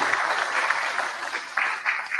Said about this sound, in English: let's just give one big applause to all the IT country team